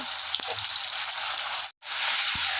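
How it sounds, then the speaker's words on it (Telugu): Spice masala sizzling steadily in hot oil for a hotel-style paneer curry, a loud continuous frying hiss with one brief cut to silence partway through, no talking. "ఆయిల్ వేసేసి ఇప్పుడు మనం రెడీ చేసి పెట్టుకున్నాం కదా మసాలా అది ఇక్కడే వేసేసుకోవాలి"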